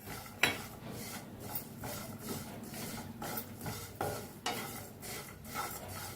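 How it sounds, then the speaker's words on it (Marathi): Sesame seeds dry-roasting in a pan on medium heat, stirred at a steady pace, give soft repeated scraping strokes over a faint crackle, quiet and close, with no voices. "तीळ बी भाजून घेऊया ह्याच्या बरोबरच।"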